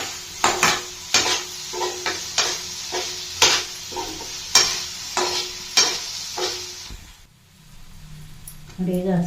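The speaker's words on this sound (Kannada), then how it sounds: "ನೋಡಿ, ಈಗ ಹಸಿಮೆಣಸಿನಕಾಯಿ ಹಾಕಿದ್ದೀನಿ." Green chillies are stirred in a pan of frying mushroom pepper fry, with repeated close clacking spatula strokes against the pan at a steady, uneven rhythm over a soft sizzle, then a brief lull before stirring resumes.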